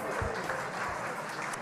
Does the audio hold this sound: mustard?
no